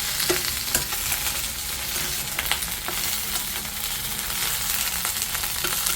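Food sizzles and crackles steadily in a hot pan as coconut is sautéed until browned, a loud continuous frying hiss with occasional stirring clicks.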